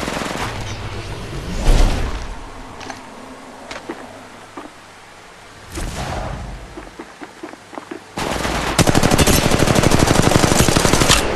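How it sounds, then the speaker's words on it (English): Gunfire in Apex Legends Mobile: scattered gunshots with short bursts, then a long rapid machine-gun volley that runs loud and close to the end, with footsteps and quieter moments between the shots. "Shots fired and they're hitting me."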